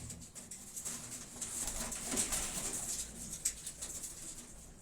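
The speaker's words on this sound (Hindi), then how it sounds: "ये वाइट रेसिंग पिजन है।" White racing pigeon cooing softly amid a steady rustle of birds, with faint scattered flutters and no voices.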